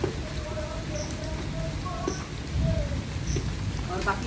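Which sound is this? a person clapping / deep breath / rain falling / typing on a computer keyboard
rain falling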